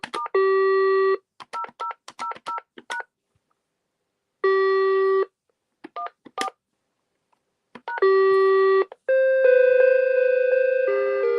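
Telephone keypad tones: a series of short dual-tone beeps in quick groups with pauses between them, followed by a steady held tone, clear and close with no talking.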